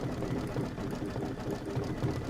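A sewing machine stitches quilt appliqué, a fairly faint, continuous motorized hum with a soft repeating needle pulse and no talking.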